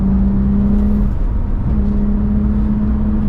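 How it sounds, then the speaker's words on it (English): A BMW E30 325i Sport's straight-six engine drones steadily from inside the car while driving, loud and continuous with a brief dip in the middle and no talk. "Oh my God, that engine sound."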